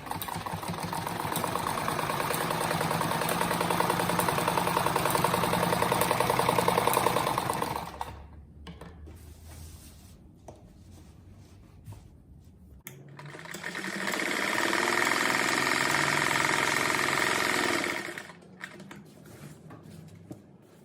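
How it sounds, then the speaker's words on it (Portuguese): A sewing machine runs loud and continuous, stitching around the edge of a patchwork fabric rug, pauses for a few seconds of quieter handling, then starts another long steady run. "agora eu vou passar uma costura em toda a volta aqui"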